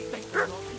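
A dog in the medieval video game Kingdom Come: Deliverance 2 gives a single short bark, close and moderately loud, over a faint ambient background.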